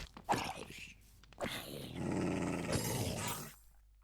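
A dog in Minecraft growls in a few short rough bursts, then gives a longer sustained snarl, heard close among game sounds, with a French-speaking player's brief exclamations nearby.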